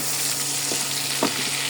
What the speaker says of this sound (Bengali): তো পেঁয়াজ আর চিংড়ি মাছগুলোকে ভেজে নিতেছি।